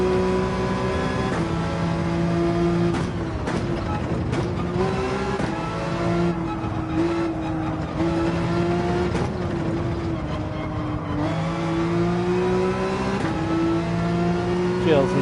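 A race car in Gran Turismo 7 carries a sustained engine note that rises and falls through gear changes and braking into corners, with a faint tire squeal. A player talks over it.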